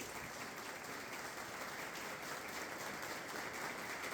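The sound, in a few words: applause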